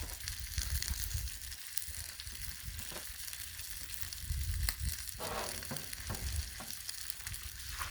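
A single egg fries in a metal egg ring on a Blackstone griddle, giving a steady close sizzle and crackle with faint scraping taps, no voices.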